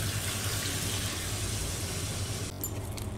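Water pours steadily into a pan of chickpea curry being cooked, a close, continuous splashing rush that holds even and then shifts near the end with a brief clink.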